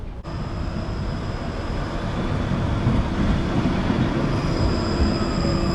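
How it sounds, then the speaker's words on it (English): A Moscow tram pulls up to a stop on Shabalovka Street, a steady rolling rumble of wheels on rail with a thin high squeal running throughout, building slightly louder as it arrives. "the tram's arriving now"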